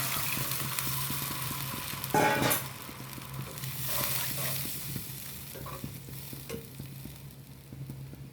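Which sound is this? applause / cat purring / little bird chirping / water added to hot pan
water added to hot pan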